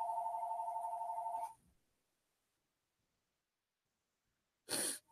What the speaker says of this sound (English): Sorry about the phone ringing in the background there.